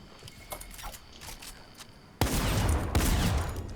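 Gunfire rings out during a nighttime online shooter match. Faint clicks and scattered shots come first, then a loud, dense burst of rapid shots dominates the second half, with no voice.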